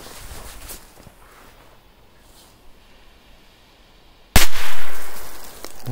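A quiet outdoor stretch, then a single sudden muffled bang from a firecracker buried deep in snow, followed by a loud rushing blast that slowly dies away.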